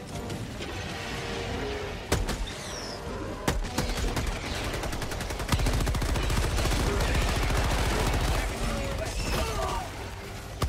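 Gunfire in the video game Helldivers 2 starts with scattered sharp single shots, then builds into a sustained, rapid stream of automatic fire. Voices talk over parts of it.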